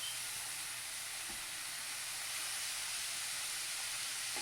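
Cowboy steaks sizzle in a hot pan, a continuous, even hiss of frying that stays steady from start to finish with no talk over it.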